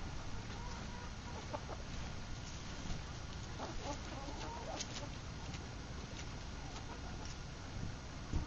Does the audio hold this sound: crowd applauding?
no